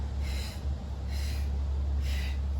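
Rhythmic breaths during a fitness circle workout, three soft airy bursts of exhaling spaced about a second apart over a low steady hum, close and fairly quiet, with no talking.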